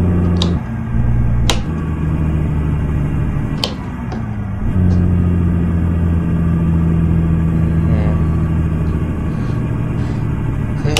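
A Freightliner FLB truck engine idles and runs steadily in Euro Truck Simulator 2, a loud close diesel drone with shifting pitch, briefly dipping and changing tone partway through, with a few sharp clicks over the top.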